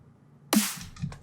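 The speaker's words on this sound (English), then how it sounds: "That's my kick and my snare." Dubstep drum loop of a programmed kick followed by a snare: one sharp, loud hit with a deep thump, then a softer second hit, isolated with no talking.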